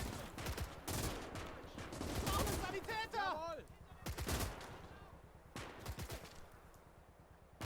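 Bursts of machine gun fire in a WWII real-time strategy game on the Eastern Front, a machine gun covering a bridge, rattling in rapid clusters amid other battle noise and a voice crying out, fairly faint overall.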